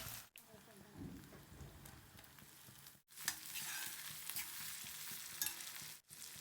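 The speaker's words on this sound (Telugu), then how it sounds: "ఆనియన్స్ గోల్డెన్ కలర్ వచ్చే వరకు వేగనిద్దాము ఇప్పుడు ఒకసారి ఈ విధంగా కలిపేసుకుని టమాటా ముక్కలు కూడా వేసేద్దాము" Onions and tomato pieces for a turmeric curry fry and are stirred in a pan, giving a continuous close sizzle broken by brief gaps and scraping.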